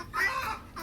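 Chickens in farm sheds give a short, close cluck lasting under a second, with no other sounds around it.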